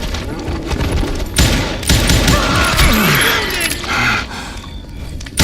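Loud, dense gunfire in the Western shooter video game Call of Juarez: Gunslinger, with repeated sharp shots and bursts layered over clattering action noise, no talk.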